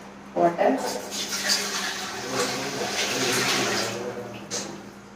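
Water pours steadily into a pot for a few seconds as a continuous rushing splash, with a voice speaking briefly at the start.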